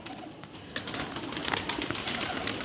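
Double shade Lal Sherazi pigeons coo softly in a loft, low murmuring calls repeating under a steady background hiss with faint rustling.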